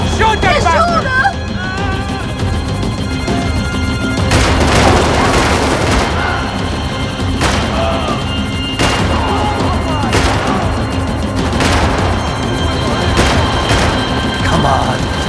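Gunfire in the video game Max Payne 3 mixed with game music and shouted voices: sharp repeated shots and booms punctuate a dense, loud soundscape, alongside people talking.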